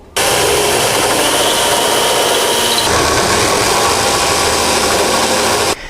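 A power drill grinds steadily and loudly through metal for about six seconds, drilling out spot welds, its pitch shifting slightly partway through as the bit is worked around.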